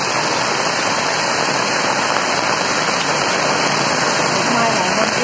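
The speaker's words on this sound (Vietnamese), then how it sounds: "Hiện tại mưa lớn quá" Heavy rain pours down in a dense, continuous roar that stays loud and steady throughout, with no break in the downpour.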